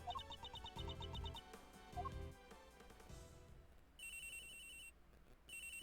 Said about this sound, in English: Is she getting a phone call?